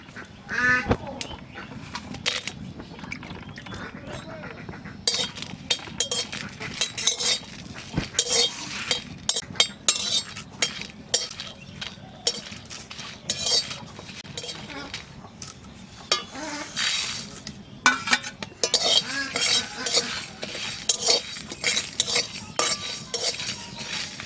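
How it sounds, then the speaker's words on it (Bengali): Dried chilies, coriander and cumin dry roasted in a hot pan while a utensil stirs and scrapes, giving steady light crackle and sizzle with frequent close metallic clinks and scraping strokes throughout, no talk heard. "শুকনো লঙ্কা, ধনে, জিরে শুকনো খোলায় বাজিয়ে নেব।"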